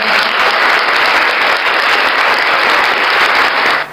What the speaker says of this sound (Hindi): आप सभी का हमारे चैनल पर तालियों के साथ स्वागत है